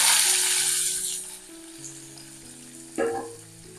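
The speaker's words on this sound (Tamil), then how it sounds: "நம்ம கடாயில் எண்ணெய் விட்டுருக்கோம். கடுகு, உளுத்தம்பருப்பு, கடலைப்பருப்பு தாளிச்சிக்கலாம்." Mustard seeds, urad dal and chana dal tempering in hot oil in a kadai; a strong sizzle fades within the first second or so, leaving soft music and a single metallic clink.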